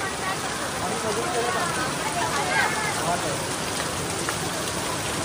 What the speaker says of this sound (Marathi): पाऊस आला मित्रांनो जोरात